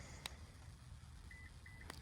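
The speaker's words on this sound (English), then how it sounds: "We get 2 beeps, and then the rear hatch closes." Two short, high electronic beeps from a 2020 Subaru Outback sound in quick succession as its power rear hatch closes, over a low background rumble, with a couple of faint clicks around them.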